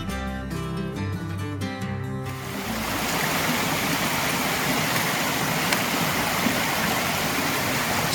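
A stream at a water crossing on the Northville-Placid Trail rushes steadily and close by. It follows a brief run of tonal notes, then fills the rest of the clip with a loud, even wash of water and no talking.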